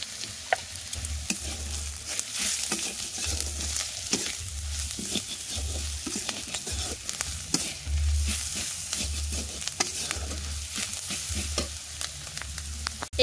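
Green chilies and spices fry in oil with a steady sizzle. A utensil stirs through them in repeated scraping strokes, with no voices.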